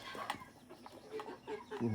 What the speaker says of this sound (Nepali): यहाँ फेरि कुखुरा छ